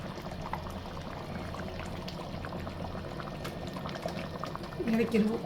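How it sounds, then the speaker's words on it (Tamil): Spicy mutton curry boiling in a pot as a ground coconut and cashew paste goes in, a steady dense bubbling hiss with a louder splashing pour near the end. "நம்ம அரைச்சி வச்ச தேங்காவும் முந்திரி பருப்பும் அரைச்சி வச்ச பேஸ்ட்டை அதில் இறக்கிடுவோம்"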